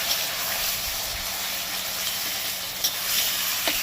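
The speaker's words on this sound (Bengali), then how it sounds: "সাথে সাথে একটু ভেজে নিয়ে পেঁয়াজটা এবার দিয়ে দিচ্ছি" Chopped onion and tomato fry in a pan for a taro-leaf and prawn curry, a steady soft sizzling hiss with faint stirring clicks and no voices.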